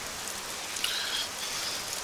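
Steady rain patters in the survival game SCUM, an even hiss of drops on surfaces with faint, irregular tapping spread across the whole stretch and no talk.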